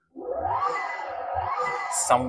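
A Hyundai Ioniq 5 N's simulated engine sound in supersonic mode, a synthetic jet-like whine, swells and sweeps in pitch, rising and falling steadily, ending with a short hissing burst.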